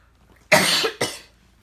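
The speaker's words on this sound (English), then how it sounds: "I'm going to need to cough." Two sharp coughs in quick succession, close and fairly loud, against a quiet background.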